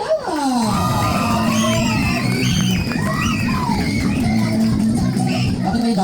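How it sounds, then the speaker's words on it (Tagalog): Party guests at a child's tenth birthday celebration erupt in loud cheering, screams and yells, a dense crowd roar that stays strong and continuous from start to finish. "Isang malakas na palakpakan na may kasamang hiyawan."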